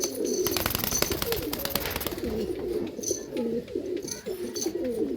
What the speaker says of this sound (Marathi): सगळे ह्या क्वालिटीचे कबूतर आहेत